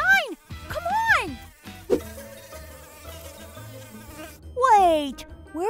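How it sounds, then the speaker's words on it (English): Cartoon bees buzz in a steady drone, set among squeaky, sweeping character noises in a children's animated adventure. "I hear buzzing!"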